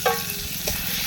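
Chopped chicken stir-fried with garlic in a pan for chicken chow mein, a close sizzle with a couple of scraping stirs and a brief clink as it is moved around.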